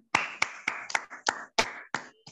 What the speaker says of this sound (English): Give yourself a big clap for yourself.